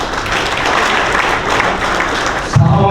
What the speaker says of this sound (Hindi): गोपालपुरा के लिए जोरदार तालियां,